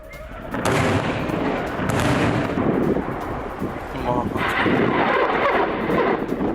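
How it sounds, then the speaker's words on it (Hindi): Rocket fire in an attack on Israel, sustained loud roaring blasts and rumbling launches that swell and overlap over several seconds, harsh and close with no clear voices. "इजराइल पर एक साथ कई रॉकेट से हमला बोला गया"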